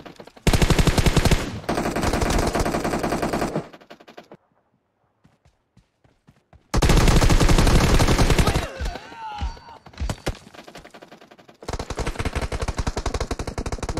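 Gunfire from PUBG Mobile in a 4v4 team deathmatch mode: loud, sustained automatic bursts, then a quiet gap with a few scattered shots, then more rapid fire returning at full volume.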